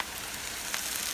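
Green chilies and tomatoes fry with onions in a pan, a steady close sizzle filling the short stretch with a faint stir near the end and no talk.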